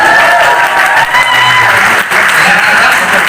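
Loud applause from an audience in a room fills the moment, a dense continuous patter of many hands clapping close by, with some crowd voices mixed in.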